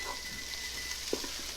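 Cooked brisket for chili verde warms in a Ninja Foodi pot with a soft, steady sizzle, broken once by a brief scrape of stirring.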